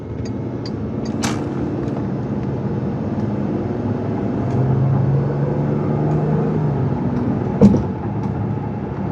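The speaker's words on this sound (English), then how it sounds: "we're going on a quick test drive here" A 2008 Bentley Continental GTC on a test drive, heard from inside as a steady, moderately loud engine and road drone that holds an even level throughout, with a brief bump near the end and no talking.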